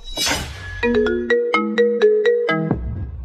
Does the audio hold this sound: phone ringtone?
yes